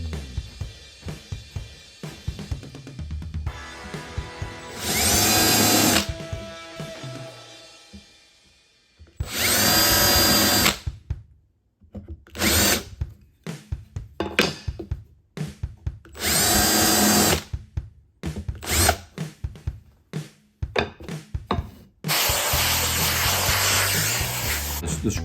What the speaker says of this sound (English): So I now need to cut a piece out so the oven can slide in